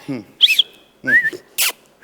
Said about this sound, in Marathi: शिट्टी वाजवली की तुम्ही तुमचा उजवा पाय असा उचलायचा